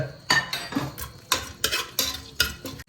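Chicken pieces sauté in a pan and get stirred with a metal utensil. Bursts of scraping and clattering against the pan recur about every half second over a soft sizzle, close and loud, with no speech.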